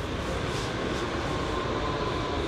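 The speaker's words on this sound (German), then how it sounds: "von rechts kommt jetzt eine U-Bahn reingefahren" A subway train pulls in from the right at a station, giving off a steady, loud rumble and rolling noise that fills the whole moment without pause.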